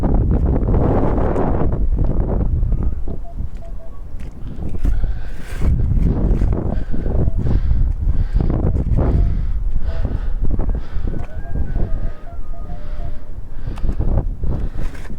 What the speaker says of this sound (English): It is extremely windy down here this morning.